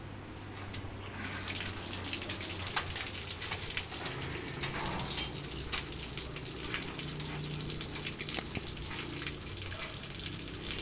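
Water runs from a sink tap in a continuous, faint splashing hiss with small irregular drips and spatters; a brief crisp spray comes at the very start.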